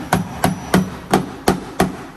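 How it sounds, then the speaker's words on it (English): Six sharp metallic hammer blows land at a steady, even pace on a damaged BMW E92 M3 quarter panel, each ringing briefly against sheet metal, close and loud with no voices. "we're just hammering on it because we want to relieve a lot of the tension"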